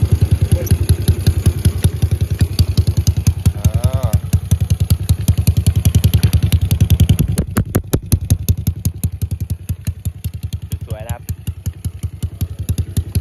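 A Honda Wave 110i motorcycle built up with a 53 mm engine runs close by, its steady rapid exhaust firing loud throughout, briefly easing in the middle before settling back, with no talking over it.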